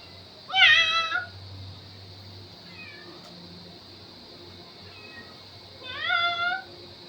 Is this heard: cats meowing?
yes